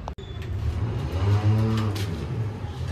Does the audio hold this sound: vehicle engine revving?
yes